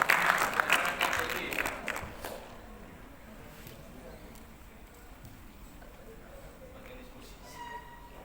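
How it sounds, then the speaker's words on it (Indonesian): Applause from an audience welcoming a speaker at a KPU South Jakarta election talk event, loud and dense at first, then fading after about two seconds into faint room noise. "Boleh tepuk tangan yang meriah untuk beliau."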